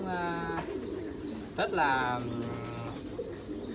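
Pigeons at a farm coo softly in low, repeated throaty notes, moderately near, while someone talks over them.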